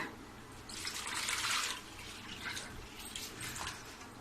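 Water splashes and trickles steadily into a container as potato chip slices go into cold fridge water, rising briefly louder then settling into a softer, continuous flow.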